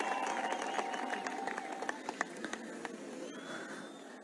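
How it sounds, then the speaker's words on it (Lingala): Crowd at a gathering applauding for a commander, steady scattered clapping with a few sharp louder claps, mixed with background voices, fading slightly toward the end. "Je vous prie d'applaudir pour lui"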